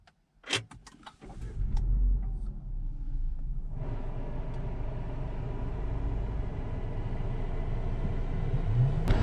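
A 2021 Opel Grandland X engine cranks and starts via push button after a few clicks, settling into a steady low rumble that gradually grows louder, heard from inside the vehicle.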